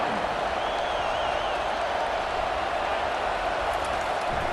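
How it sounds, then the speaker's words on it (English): Steady stadium crowd roar from a College Football 25 game against Army, a dense continuous wash of cheering and noise held at an even level throughout, with no voices standing out. "The roar of the crowd trying to fuel this defense to keep them pinned in their own end."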